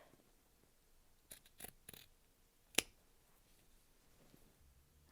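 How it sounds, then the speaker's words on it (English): Scissors trim the fabric seam allowance on a girl's dress, with several quiet, close snips in a loose cluster followed by one sharper cut, with no talking. "Lastly, trim your seam allowance so it gets just to the top of the bias"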